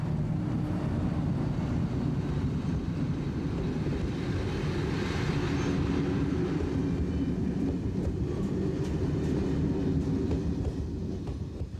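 A Belgian Class 25.5 electric locomotive pulls away with an international passenger train from Amsterdam to Paris, giving a steady loud low rumble and wheel noise close by that continues for nearly twelve seconds, with no voices.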